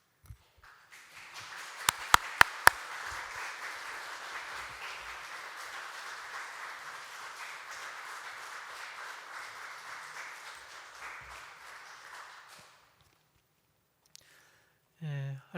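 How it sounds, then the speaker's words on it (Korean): A congregation at a church gives big applause welcoming a missionary, a few sharp claps at first, then broad steady clapping for about ten seconds that fades out, followed by quiet and a short sound at the end. "우리 선교사님 나오실 때 우리 큰 박수로 우리 환영하겠습니다"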